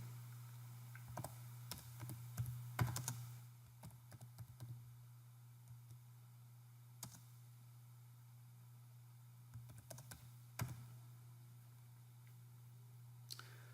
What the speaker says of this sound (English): here I'm going to type the first year's unit